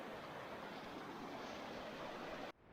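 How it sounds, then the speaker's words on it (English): A creek swollen with rain and snowmelt on a hay farm in February rushes in a steady, broad wash of faint water noise, ending abruptly near the close with no voices. "between recent rains and snow melt, the creek is full and it's rolling."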